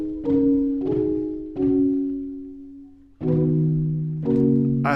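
DIY Ableton Live instrument built from a pillow fight recording plays a slow sequence of sustained pitched notes, each starting with a soft breathy attack, with one lower note partway through.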